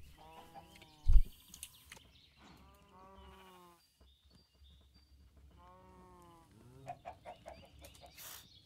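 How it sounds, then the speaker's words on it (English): Cows mooing in the Minecraft video game, several drawn-out harmonic lows rising and falling at intervals over a faint game background, with a sharp thump near the start and scattered clicks toward the end. "now that the cows have been mooing for incessantly for the last 10 minutes"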